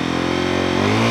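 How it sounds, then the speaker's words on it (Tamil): A Zontes 350cc single-cylinder motorcycle engine revs loudly and steadily close by, its tone climbing slightly toward the end with no voices. "எக்ஸாஸ்ட் நோட் வந்து சூப்பராக இருக்குது."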